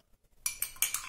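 A spoon clinks sharply against a glass while stirring sliced garlic and salt, four or five quick bright taps after a brief silence.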